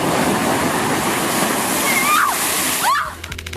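Ocean waves crash and splash over people at the shore, a loud continuous rush of surging water with brief shouts rising over the roar before it drops off abruptly.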